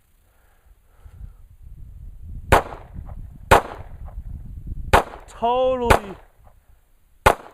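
Sharp, loud shots from a Nighthawk Custom T3 1911 .45 ACP pistol fired one-handed, five evenly spaced reports over a low rumble, with a brief spoken phrase between them.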